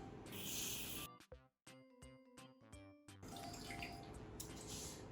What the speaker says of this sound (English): So first, with all of our produce, we're always going to wash it.